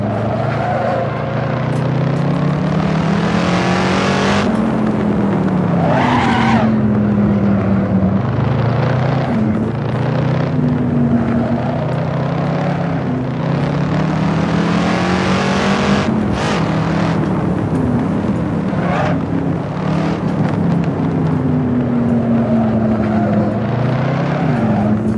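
A Shelby Cobra 427 lapping New York Safety Track, its big V8 roaring close and loud through rising and falling revs and repeated gear shifts, with no letup across the run.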